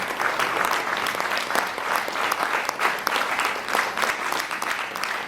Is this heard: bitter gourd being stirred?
no